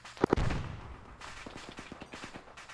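Gunfire in an Arma 3 battle: two sharp, close shots followed by a rapid trail of fainter distant rounds cracking at irregular intervals, with little talk.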